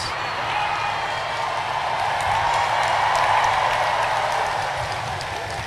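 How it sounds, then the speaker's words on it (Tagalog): A large crowd at an open political rally in Western Visayas claps continuously, a dense, even roar of applause that holds steady and peaks midway. "Pinal na palakpak na. Ugain nyo ang Western Visayas. Palakpak ng lahat."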